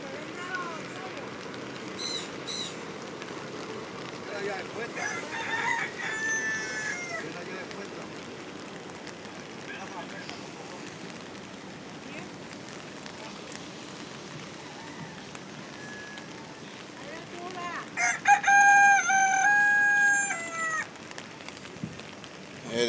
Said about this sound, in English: there's a chicken hiding under a van